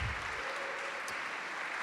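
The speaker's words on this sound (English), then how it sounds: "Can we give them a huge round of applause?" Audience applause for volunteer safety team members at a gathering, a brief burst of crowd clapping lasting under two seconds.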